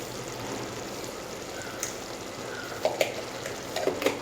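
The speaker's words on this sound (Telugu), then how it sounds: "కలర్ మారి నూనె పైకి వచ్చేదాకా ఫ్రై చేసుకోవాలి." Masala sizzles and fries in oil in a pan as a soft, steady crackle, with a few light clinks and stirring taps near the end.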